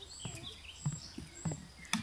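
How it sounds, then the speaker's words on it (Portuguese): Birds chirp in short, scattered calls against a quiet natural background in a Swiss village, a few brief tweets spaced across the moment at moderate distance. "Escutando o barulho da natureza, dos pássaros"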